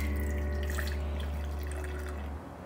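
Seafood broth poured back into a cooking pot in a steady, continuous liquid stream that runs close and fairly quiet, then stops abruptly near the end.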